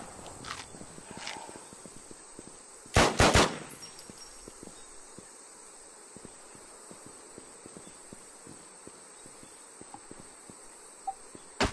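Gunfire from the WarZ video game: a loud, tight burst of several rapid shots near the start, set against a steady background of quiet ambient ticks and clicks.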